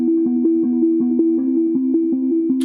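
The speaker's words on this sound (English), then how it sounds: "like a synth that can go on the chorus." A dark, sustained synth tone for a metalcore chorus, with a steady pulsing rhythm and faint shimmering accents, playing alone without voices.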